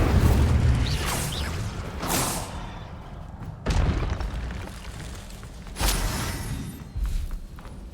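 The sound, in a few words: spell explosions from the video game Hogwarts Legacy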